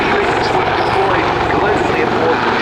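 A Westland Lynx helicopter flying in an airshow display, its loud, steady rotor thrum and turbine roar filling the short stretch, close and continuous, with a commentator's voice over the top.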